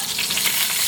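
Pork belly fries in its own rendered fat, a loud close sizzle and crackle with stirring, no voices.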